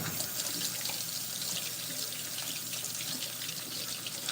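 Tap water runs steadily while hands are rinsed under it, a continuous close splashing rush with no speech, in a home kitchen during biscuit dough mixing.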